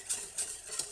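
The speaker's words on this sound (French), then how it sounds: "Je vais prendre le fouet" A whisk beats lemon tart filling in a bowl, three quick scraping strokes in a steady rhythm, close and clear with no voices.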